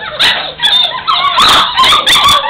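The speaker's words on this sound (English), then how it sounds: "When you hear that howling, Deanne, that's just for you." Several dogs, puppies by the sound, bark, yip and whimper in overlapping bursts over about two and a half seconds, fairly loud and close, with rising howl-like tones mixed in and no talking.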